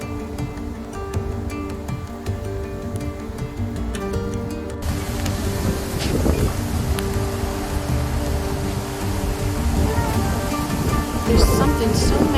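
Strong wind roaring steadily during wildfire firestorms, a broad rushing noise that swells louder and gustier in the second half, with faint voices underneath.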